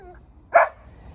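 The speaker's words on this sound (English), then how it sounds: "This is the most I've heard her bark." A rescued former racing greyhound lets out a single sharp, excited bark, close by and loud, against quiet outdoor background.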